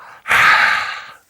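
A person yawns aloud in a crowded classroom setting, a single long breathy exhalation that swells and fades over about a second, close and clear with no talk.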